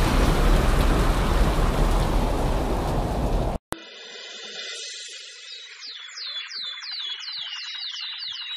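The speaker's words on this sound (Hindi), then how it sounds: "यह तो बहुत जोर की बारिश आ गई, अब क्या करूं?" Heavy rain pours down in a loud, dense hiss, then cuts off abruptly to a quieter scene with chirping birds and a faint rain-like wash.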